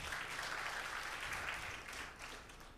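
Audience at a census preliminary report release event applauding, a dense, even wash of many hands clapping that stays steady and fairly quiet from a distance, with no talk over it.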